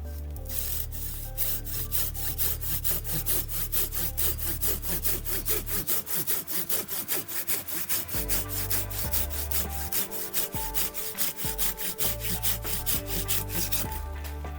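A Silky Gomtaro 300-8 Japanese pruning saw rasps through wood in fast, even back-and-forth strokes, close and steady, with a brief pause partway through.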